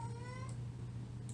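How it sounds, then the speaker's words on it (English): A pet cat indoors gives one drawn-out meow that trails off, faint and close, over a steady low household hum. "Excuse my cat. Just pretend it's not happening."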